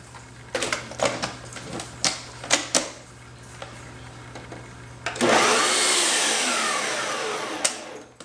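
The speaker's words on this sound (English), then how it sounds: "so now I'll go ahead and mix it again on the food processor" A food processor starts up and whirs continuously, blending beef heart fish food for discus, loud and close after several sharp clicks and knocks as it is set up, running steadily for about three seconds.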